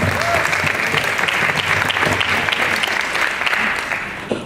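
At an MLK breakfast in Hamtramck, the audience keeps up a loud, continuous round of clapping that slowly tapers off toward the end.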